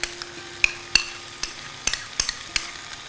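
A utensil repeatedly scrapes and taps in a pan as egg is stirred into frying hakka noodles, about eight sharp strokes over a faint sizzle, close and with no talk.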